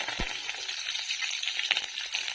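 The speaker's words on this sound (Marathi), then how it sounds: "आता आपण कढीपत्ता टाकणार आहे त्याच्यात आणि जास्वंदाची पानं पण टाकणार आहे" Curry leaves and hibiscus leaves crackle and sizzle steadily in hot oil already boiling with aloe vera, a dense bright frying hiss with a few sharper pops, close and alone.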